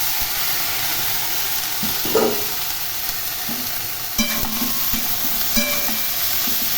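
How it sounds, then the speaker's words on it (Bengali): Ridge gourd and yardlong beans fry in a pan over a steady close sizzle, with scattered spoon scrapes and stirring clatter rising out of the hiss. "এগুলি খুব ভালো করে ভেজে নেব।"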